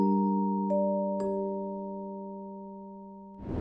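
Chopped synth chords in FL Studio sound as sustained bell-like tones with short rhythmic note hits near the start, fading slowly before a brief noisy swell at the end.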